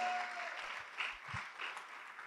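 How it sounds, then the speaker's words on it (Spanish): A church congregation claps during a Spanish-language sermon, a soft, steady patter of hands heard faintly at a distance. "Démosle fuerte las palmas al bendito Dios."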